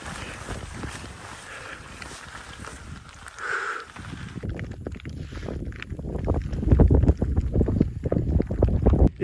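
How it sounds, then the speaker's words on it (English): Strong wind buffets the microphone on a high mountain trail during heavy rain near the route's high point on the Colorado Trail, a loud, gusty roar that builds and grows rougher in the second half. "It's been super windy"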